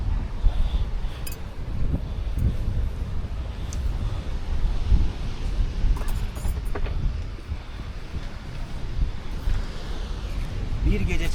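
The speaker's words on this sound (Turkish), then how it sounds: "Biraz çok rüzgar sesi var." Wind buffets a microphone steadily throughout at a campsite, a low rumbling roar with gusty swells and occasional faint clicks.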